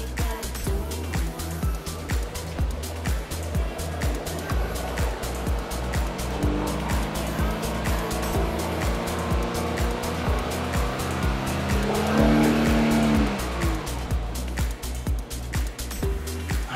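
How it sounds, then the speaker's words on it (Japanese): A Toyota 86 / Subaru BRZ engine revs up under the accelerator, a steady droning tone climbing in pitch and loudness before dropping back, heard close and continuous. "じゃあアクセル踏んでいきます。"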